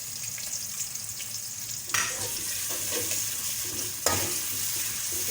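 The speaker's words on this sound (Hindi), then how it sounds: "इसको हम अच्छे से गोल्डन फ्राई करेंगे प्याज को" Onion fries in hot oil with whole garam masala, cumin and salt for potato rice, a soft steady sizzle broken by two sharper scraping stirs of the pan.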